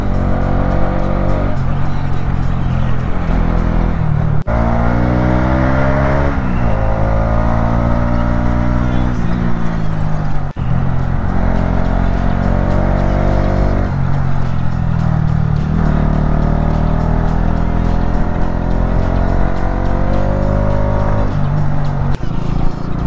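Motorbike ridden on a mountain road near Bhimtal and Nainital, a loud continuous engine drone with gear-shifting rises and falls under heavy wind rumble as it overtakes, recorded close on the moving bike.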